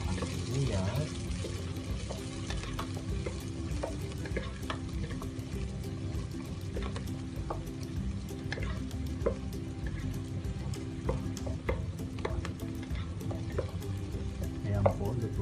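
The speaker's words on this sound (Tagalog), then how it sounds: "Lutuin muna natin ang bahagya ang sibuyas." Onions sautéing in a pan while cooking a simple lomi noodle dish: a steady, continuous sizzle and fry hiss runs throughout at an even level, with light clinks of stirring scattered across it.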